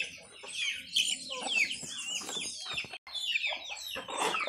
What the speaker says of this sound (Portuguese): A franguinha pescoço pelado.